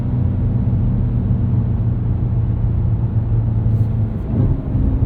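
A 2024 Cadillac CT5-V Blackwing with a supercharged V8 downshifts on a winding backroad, its engine note a steady, loud, low rumble heard from inside the car with no talking.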